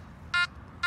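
Makro Gold Kruzer metal detector sounds two short, bright electronic signal tones in a row during field use, crisp and close against quiet background hiss.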